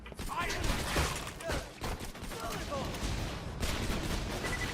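Explosions and gunfire crackle in Borderlands' Captain Scarlett DLC, a rapid barrage of blasts and bursts with a brief lull before more detonations, loud and close.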